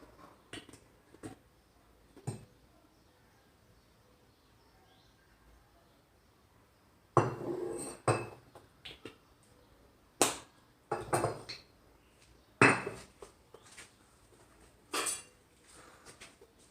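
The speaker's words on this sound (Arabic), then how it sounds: "ونحرك هذيك الملوخيه تاعنا" Molokhia stirred with oil in a cooking pot, faint scattered clinks at first, then louder, irregular scrapes and knocks of a utensil against the pot, with short pauses between.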